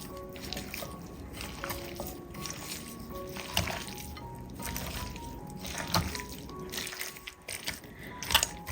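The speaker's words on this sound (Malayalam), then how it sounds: "ഇനി കൈ വെച്ചിട്ട് എല്ലാം കൂടി നന്നായിട്ട് ഒന്ന് മിക്സ് ചെയ്തെടുക്കാം" Chicken pieces mixed by hand with spices and curry leaves, giving soft wet squishing and slapping close up, irregular and fairly quiet, with a few light clinks.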